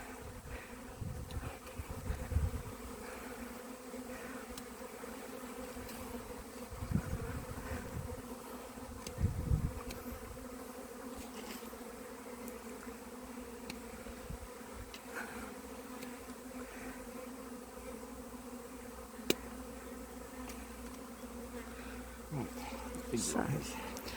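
A small honeybee swarm hums steadily beside the hive, a continuous buzzing drone with occasional louder passes of individual bees close by, while people talk quietly in the background.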